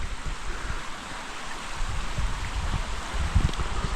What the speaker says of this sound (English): All that snow runoff.